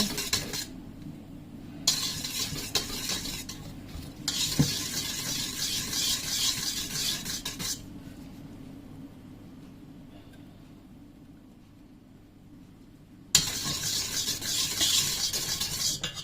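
Egg whites and sugar stirred in a pot on the stove, the utensil scraping and swishing in steady bursts with a gentle sizzle beneath, fading to near quiet midway before the stirring resumes loudly.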